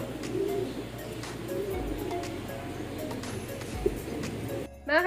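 Racing pigeons coo softly inside an indoor pigeon showroom, low murmuring calls repeating under faint room noise, with a brief voice at the very end.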